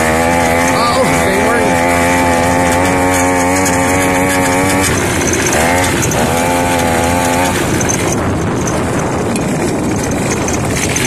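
A weed eater engine fitted to a bicycle runs loud and close with a high buzzing drone that shifts pitch as it revs, with a person talking over it.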